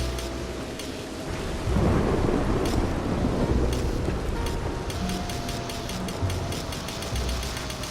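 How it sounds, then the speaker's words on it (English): A thunderstorm in Red Dead Redemption 2 brings a heavy, rolling rumble of thunder over steady rain, swelling partway through and then settling into a continuous downpour with no talking. "I can't believe I'm doing this in a lightning storm."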